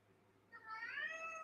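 A cat meows once indoors, a short rising then falling call that is fairly faint and close, with no talking over it.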